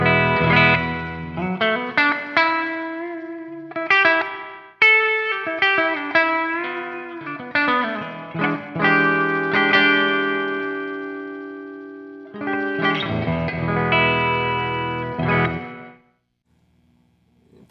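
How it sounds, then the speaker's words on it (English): Distorted electric guitar chords and riffs through a Donner Verb spring reverb pedal ring out with a splashy, washy spring reverb tail, playing in bursts and then fading to silence. "Yeah, I do like the spring reverb on here quite a bit more."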